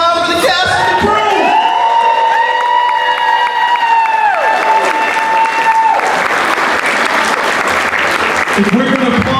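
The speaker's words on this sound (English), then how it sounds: "Can I get a round for the cast and the crew?" Loud, dense applause and cheering from a theatre crowd at a speakeasy show, with whoops and shouts rising over continuous clapping and a voice carrying over the top before the noise swells further.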